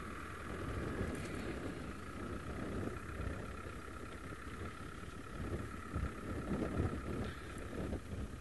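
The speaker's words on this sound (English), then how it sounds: "Oh, this wind is very, very strong." Strong wind buffeting a microphone on an open savanna in the Maasai Mara, a steady roaring rush with gusty swells and a faint engine-like hum beneath, no speech.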